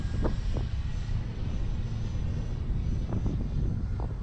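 An E-flite Viper RC jet makes a slow pass at under half throttle on a windy day, giving a steady, moderately loud ducted-fan whoosh with a constant drone and wind rumble underneath.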